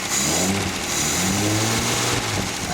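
An Austin Healey 100/6 engine under restoration revs loudly and close by, a steady throaty roar with small rises in pitch, heard alone without talk.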